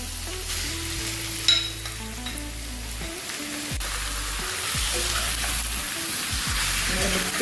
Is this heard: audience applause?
no